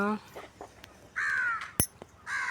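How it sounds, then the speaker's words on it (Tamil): A white crow gives harsh caws near and loud in an outdoor morning scene, two drawn-out calls with a sharp short sound between, while a person speaks over the start. "பாருங்கள், வெள்ளைக்காக்கா, இங்கே ஒரு காக்கா"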